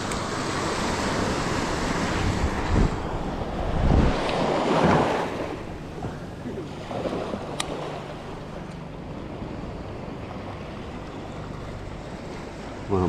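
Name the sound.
ocean waves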